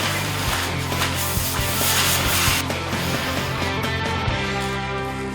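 Lining paper is smoothed onto an uneven ceiling while wallpapering an old house under remodeling, making a loud, steady brushing rub with repeated sweeping strokes close by and no voices.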